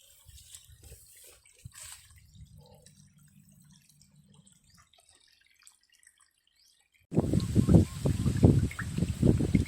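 Water drains from a large jar used to raise catfish. It starts as faint dripping and trickling, then after a quiet gap turns to a loud, close gush of splashing, gurgling water.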